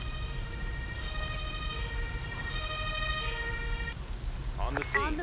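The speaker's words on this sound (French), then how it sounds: "Une ambulance." An ambulance siren wails with a steady rising and falling tone in the emergency-services game Emergency 2023, heard at moderate distance over background noise alongside game voice lines.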